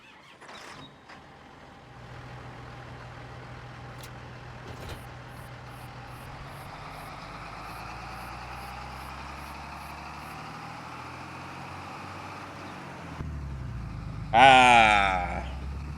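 A tractor engine in a farming video game, pulling a plow, runs as a steady low drone that builds and holds for most of the stretch, ending with a brief louder burst near the end.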